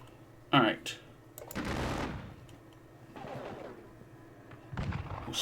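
Gunfire erupts in a Battle of Bautzen war strategy game, with bursts of musket-style volleys and crackling fusillades rising and fading across several seconds, heard alone without talk.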